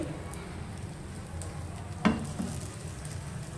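A bread omelette fries in a pan with a steady, close sizzle and a brief clatter partway through. No one speaks.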